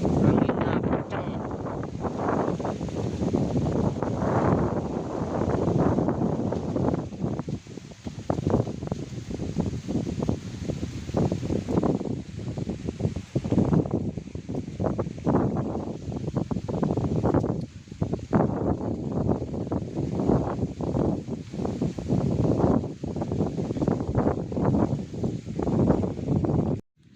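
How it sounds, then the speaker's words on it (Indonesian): Strong wind blowing hard across open rice fields at a fishing spot, buffeting the microphone in continuous loud gusts with rustling, and a few faint voices underneath. "Oh, anginnya kenceng."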